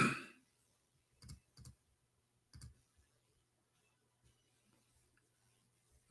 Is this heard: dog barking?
no